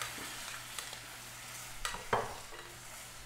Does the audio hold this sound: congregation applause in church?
no